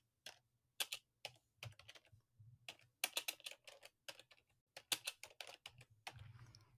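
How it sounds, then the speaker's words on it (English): Quiet, slow one-handed keystrokes on a computer keyboard, tapped in uneven bursts with brief pauses, close by and without talk. "So I'm typing with my left hand"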